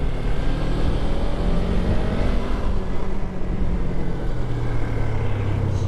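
Traffic passes around a moving car, heard from inside as a continuous loud road and engine rumble with no clear breaks.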